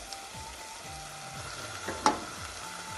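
Onion and curry leaves sizzle in hot oil with popped fenugreek seeds in a pan for Kerala sardine curry. The low, steady frying hiss is close, with a sharp clink partway through.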